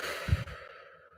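A single audible breath, a soft sigh-like exhale during a guided relaxation session, close and brief against a faint steady background hum.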